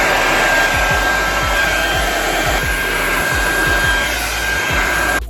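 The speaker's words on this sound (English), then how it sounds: "I want to just blow dry this hair" A hair dryer blows steadily on a ginger wig, a loud continuous whoosh with a thin whine, running without a break throughout.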